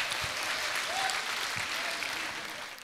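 Audience applause for a visiting young team from Kazakhstan at a stage comedy show in Osh, Kyrgyzstan, a steady, dense clapping that fills the hall and tapers slightly at the end.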